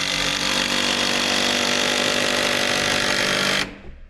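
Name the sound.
power tool driving 10-inch timber lock screw into rafter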